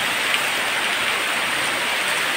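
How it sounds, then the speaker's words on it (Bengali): Heavy rain pours steadily outside during a power cut, a dense, even hiss of falling water with no breaks and no voices. "অনেক জোরে বৃষ্টি হচ্ছে বাইরে।"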